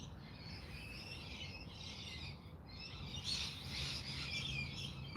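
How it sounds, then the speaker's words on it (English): Chattering bird calls, a magpie's harsh chatter, repeat at a distance over steady low background rumble on a rainy morning in Melbourne, Australia, growing a little louder toward the end. "Oh, comes a magpie."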